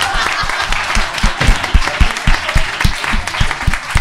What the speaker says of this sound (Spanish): Un aplauso a Raúl